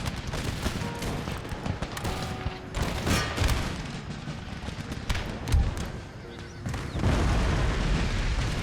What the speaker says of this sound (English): Devastating canister shot right there as their archers open up on our line infantry